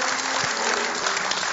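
A studio audience at an Italian television show applauds, a dense, even burst of clapping that lasts a moment.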